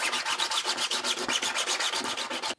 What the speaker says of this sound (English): So I'm going to sand it.